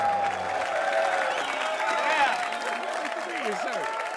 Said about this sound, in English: give a big round of applause for Brian Holtzman